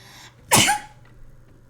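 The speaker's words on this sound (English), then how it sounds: "Oh no, I gotta sneeze again." A single sharp human sneeze bursts out close and loud in a quiet room, with a brief faint intake before it and near silence after.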